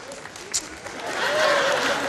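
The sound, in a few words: audience applause at Musikantenstadl TV show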